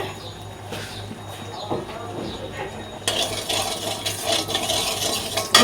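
Ground shrimp paste sizzling in hot oil in a wok as it is stirred, a soft background hiss with scraping and clinks of the utensil that grow louder and busier halfway through.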